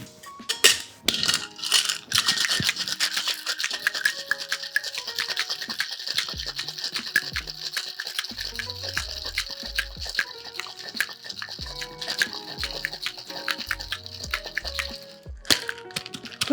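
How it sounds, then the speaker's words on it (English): Ice rattling hard inside a cocktail shaker during a long, steady shake for a St-Germain drink, a dense continuous clatter lasting most of the stretch, close and loud with no talking. "ice into the shaker, shake for 10 to 12 seconds"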